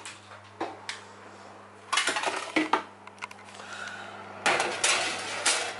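A tray of croissants goes into the oven, making several sharp metallic clanks and rattles in bursts with quiet gaps between them and a low hum underneath, and no one talks.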